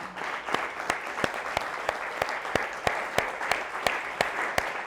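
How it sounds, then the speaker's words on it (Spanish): A church congregation claps together in a steady rhythmic beat during worship, about three sharp claps per second, even and moderately loud throughout. "Dele un aplauso al Señor, hermano."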